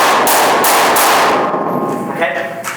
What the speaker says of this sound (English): These are what gunshots sound like.